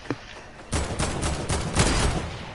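Rapid bursts of gunfire in a multiplayer video game strike the player, a quick run of sharp cracking shots lasting about two seconds after a brief quiet moment.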